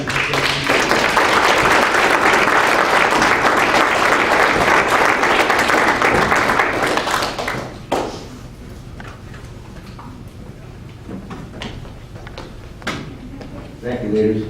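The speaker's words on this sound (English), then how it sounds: "So I would like to give them a round of applause again." A hall audience gives a full round of applause for the leaders at a 2018 Arrow of Light scout ceremony, loud and dense for about seven seconds, then fading into quiet room noise with scattered knocks and shuffles.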